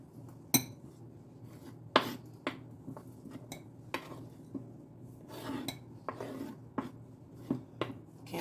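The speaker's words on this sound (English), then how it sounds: "I'm going to take my broccoli and put it inside of the bowl with the cheese." Broccoli tipped into a bowl of cheese and stirred together, giving sharp clinks and scrapes of a utensil against the bowl at irregular intervals, close and fairly quiet with soft rubbing between hits.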